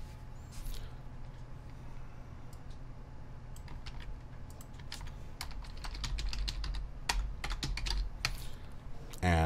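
Fingers type an email address on a computer keyboard to log into a password manager, a near, quick run of irregular key clicks over a soft steady hum, growing busier toward the end.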